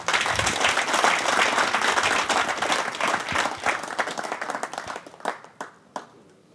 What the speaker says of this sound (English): Let's give both players a round of applause and lag for the break.